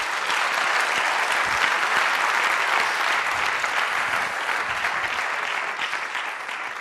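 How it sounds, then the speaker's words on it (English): Audience applause for a performer at the Tell A Vision 2015 show, a dense, steady wash of clapping that fills the whole stretch at near-constant loudness with no voices over it. "Give a big round of applause for Mr. Dean Donaldson."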